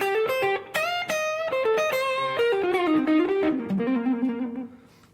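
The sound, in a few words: electric guitar with tube screamer overdrive, reverb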